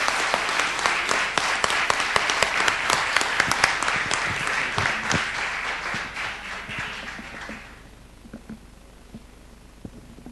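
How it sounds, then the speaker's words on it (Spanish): Audience at a TecNap 2014 technology presentation breaking into dense, sustained clapping that thins out and fades to a few scattered claps near the end. "un aplauso de la concurrencia por esta presentación"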